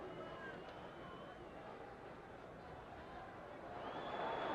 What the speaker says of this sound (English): There's a tremendous crowd here tonight, and a tremendously excited crowd